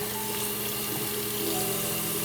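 Tap water rinsing a finished knife blade at a sink, a steady close hiss and splash of running water that holds evenly throughout the brief moment, with no talking.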